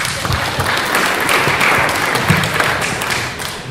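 Applause at a school board meeting, a loud, dense burst of clapping from the room that holds steady with a few heavier thumps before easing off slightly at the end.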